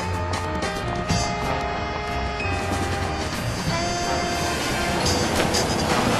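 Steady rumbling rail noise of a passenger train riding along in the Sam & Max video game, a continuous dense drone with faint rhythmic clatter and no voices, holding an even loudness throughout.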